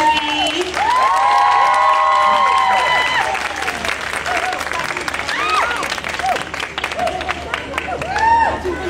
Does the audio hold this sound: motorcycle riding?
no